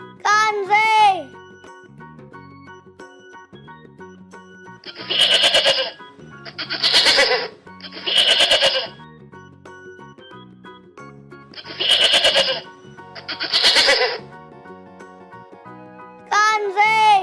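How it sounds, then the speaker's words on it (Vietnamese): A goat bleats again and again, loud and close, in five wavering cries spaced a second or two apart between stretches of gentle background music. "Con dê."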